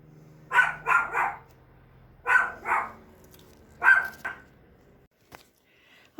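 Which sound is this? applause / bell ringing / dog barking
dog barking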